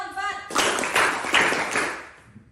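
Several people clap their hands in a rhythmic concentration exercise, a burst of brisk claps following a few spoken words, then fading out.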